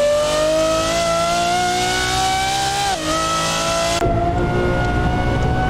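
Lamborghini Aventador SVJ engine in a racing video game set in rain, a loud sustained high-pitched V12 wail holding steady, briefly dipping on a gear change, then dropping in pitch as it revs down.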